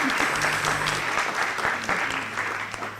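Audience applause for mock trial participants, a dense, sustained clapping that fills the room for the full stretch, moderately loud and fairly close.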